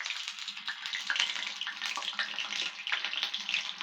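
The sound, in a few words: oil and spices added to cooking pan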